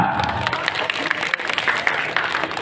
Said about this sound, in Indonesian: Ya, tepuk tangan buat Sela.